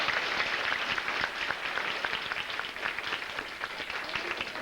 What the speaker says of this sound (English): so you can give them a round of applause as well.